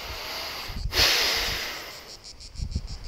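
A deep inhale during a yoga sun salutation, a strong airy breath near the microphone swelling then fading over a couple of seconds, with faint soft movements around it.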